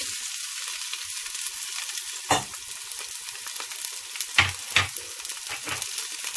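Chopped onion frying in olive oil in a pan for a pasta dish with beef ribs, a steady soft sizzle with a few sharp clinks and scrapes of stirring, no talking.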